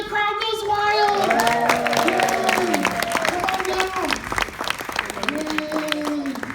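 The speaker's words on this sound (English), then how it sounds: "The crowd goes wild." Crowd at a horror makeup comedy stage show at Universal Orlando bursts into applause with cheering, steady clapping filling the clip while excited voices and shouts rise over it.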